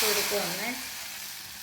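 Batter poured into a hot pan already holding fried onion and coconut pieces, giving a brief loud sizzle that fades quickly, with a voice talking over it.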